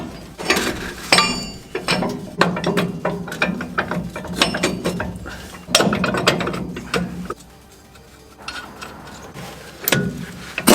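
Ratchet wrench tightening U-bolt nuts on a truck's leaf spring and axle: quick bursts of loud, close clicking with short pauses between runs, and no talking.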